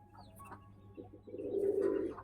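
Pigeons in a coop give a soft, low coo that swells near the end after faint rustling, quiet and close with no one talking.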